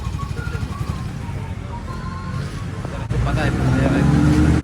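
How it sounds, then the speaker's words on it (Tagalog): A Yamaha Mio Gear scooter engine idles roughly and sputters, then surges into a louder, sustained rev near the end before cutting off abruptly, as if it dies. "Baka na-experience mo na rin ito sa tuwing ire-revolution mo na mamatay ang motorsiklo."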